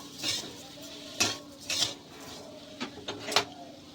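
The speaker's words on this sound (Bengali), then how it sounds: "আমি এখানে পাঁচ চামচ চিনি দিয়ে দিয়েছি ভালো করে মিশিয়ে নেবো" A metal spoon clinks and scrapes against a pan while sugar is stirred into a semolina-based sweet filling, a few distinct clatters at irregular intervals, close and fairly quiet.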